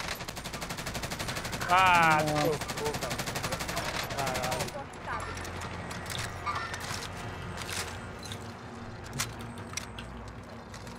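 Rapid automatic gunfire in the Call of Duty Warzone video game, dense bursts over the first few seconds then scattered sharper shots, with brief player talk and a short exclamation mixed in.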